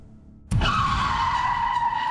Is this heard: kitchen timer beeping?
no